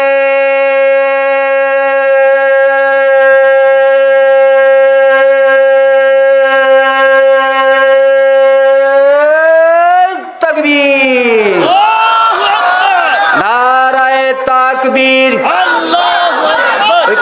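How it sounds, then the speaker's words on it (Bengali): At a sermon, one amplified voice holds a long, sustained chanted call, then a large crowd roars back the takbir, Allahu Akbar, in loud overlapping shouts that rise and fall. "একটু প্রস্তুতি নেন, হাত তুলে তাকবীরের আওয়াজ দিতে হবে।"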